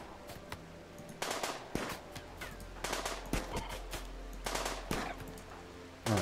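Machine pistol fire in the Rimworld video game, repeated rapid bursts of shots crackling over several seconds, loud and close with brief gaps between volleys.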